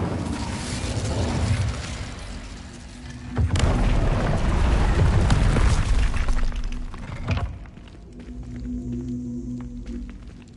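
An Incendio fire spell cast in Hogwarts Legacy, a loud roaring whoosh of flame that swells for a few seconds and then fades to a low rumble, close and with no talking.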